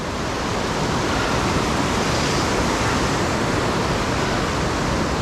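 Whitewater of Cucumber Rapids rushing over boulders at Ohiopyle, a loud, dense and unbroken roar of flowing water filling the whole scene with no other sounds.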